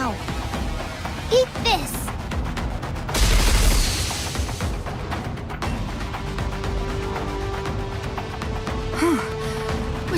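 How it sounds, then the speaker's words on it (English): Missiles firing and exploding in the video game Nikke, a dense burst of booming detonations rolling for about a second amid game sound effects, with a short shouted line from a character beforehand. "Missile container online. Firing missiles now."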